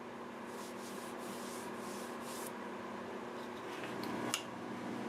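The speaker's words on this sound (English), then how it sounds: "I'm going to go ahead and get this sanded up, lathe running and reverse at 380 with 80 grit" Sandpaper of 80 grit rubs an olive wood bowl spinning in reverse on a lathe at 380 rpm, a fairly faint, steady abrasive hiss with a low motor hum beneath and a small knock near the end.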